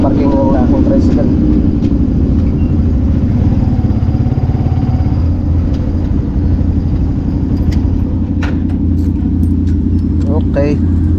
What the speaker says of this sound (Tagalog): Dito ko na ipaparking ng aking tricycle.